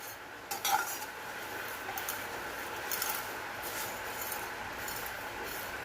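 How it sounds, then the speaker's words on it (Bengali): Vermicelli frying in ghee in a pan, a steady soft crackle and hiss with a few metallic clinks of a utensil against the pan near the start, no talking. "সিমাইটাকে ঘিয়ের মধ্যে ভেজে নেব।"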